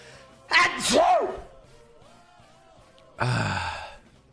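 A man sneezes twice during a live esports stream, two loud, close bursts separated by a quiet pause, the first with a rising vocal catch.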